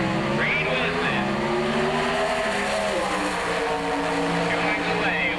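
A Pro Stock Camaro drag car at the 1986 NHRA Spring Nationals roars loudly and steadily as it pulls away down the strip, engine tone shifting through gears, with an announcer talking over it.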